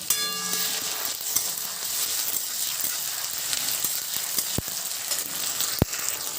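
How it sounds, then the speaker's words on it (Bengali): Onions frying in a pan with a ground paste of ginger, cumin and green chili, for a chicken-mince-stuffed pointed gourd dolma. A steady, close sizzle hisses throughout, with a couple of sharp clicks near the end. "পেঁয়াজটা যখন হালকা ভাজা হয়ে গেছে তখন দেবো আদা জিরে লঙ্কা যেটা একসাথে করে বেটে রেখেছিলাম সেই বাটাটা দিয়ে দিলাম"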